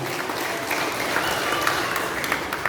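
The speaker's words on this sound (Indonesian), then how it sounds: "tepuk tangan buat Tuhan" Congregation applauding during a church worship service, a steady wash of many hands clapping, even and sustained throughout.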